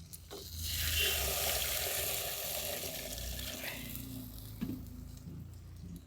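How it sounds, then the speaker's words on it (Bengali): Water poured into well-fried masala in a pan for a Bengali khoira fish curry sets off a loud rushing hiss and sizzle that swells quickly and then slowly fades to a softer bubbling simmer, close to the pan. "এরপর আমি দিয়ে দেবো জল"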